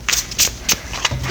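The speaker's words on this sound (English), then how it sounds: "I'm shuffling and shuffling here." Tarot cards being shuffled by hand, a series of crisp riffling bursts in quick irregular rhythm, close and fairly loud, with no talk over them.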